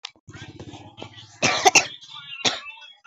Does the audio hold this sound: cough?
yes